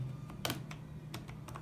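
Keycaps on a Logitech G413 Carbon mechanical keyboard give a handful of close, sharp plastic clicks and taps spaced irregularly over a faint steady hum.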